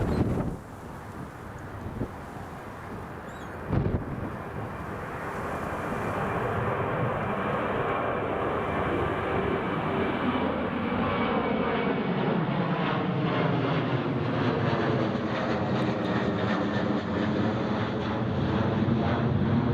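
Fixed-wing airliner taking off at Newcastle Airport during a storm, its jet engine roar building steadily and staying loud from the start, with gusty wind buffeting the microphone throughout; no talking.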